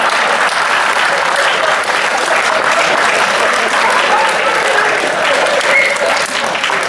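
Loud, sustained applause from an audience filling a hall at a Hindi comedy and satire poetry gathering, steady clapping that carries on without a break.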